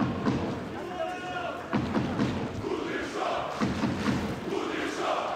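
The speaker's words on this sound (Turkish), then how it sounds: "Müthiş tezahüratlar var." An arena crowd at a boxing match between Dmitry Kudryashov and Vikapita Meroro chants and roars in rhythmic waves, loud and continuous, with a commentator talking over it.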